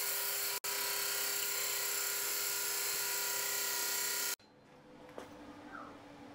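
A multitool blade grinds on a powered sharpener in a loud, steady whining buzz for about four seconds before it cuts off, leaving faint handling noises.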